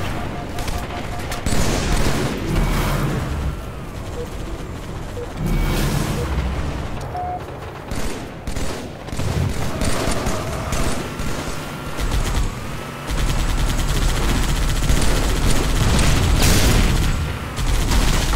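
Continuous heavy gunfire and explosions fill a Halo 3 firefight played on PC in The Master Chief Collection: dense, loud bursts, a brief lull, then a renewed, sustained barrage.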